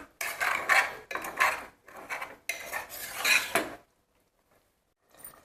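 Yogurt being stirred into masala in a pot for mutton korma, with several close bursts of a spoon scraping against the metal, then a short silence.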